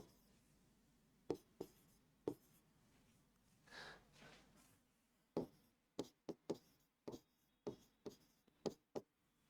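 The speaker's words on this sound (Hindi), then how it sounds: "दोनों एग्जाम्पल में अपना नाम लिख देता हूं।" Marker strokes on a classroom board as names are written during an accounting lesson, a string of short, quiet taps and squeaks in irregular bursts, with a brief rubbing sound in the middle and no talk.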